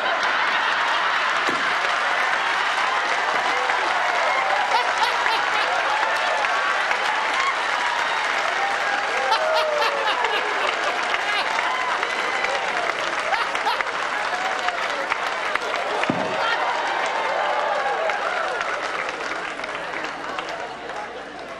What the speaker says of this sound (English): That was all the Baptists that clapped.